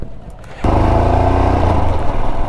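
A motorcycle being taken out near the Tungabhadra Dam by Hampi starts up abruptly after a quiet moment, then idles loud and close with a steady, even engine throb.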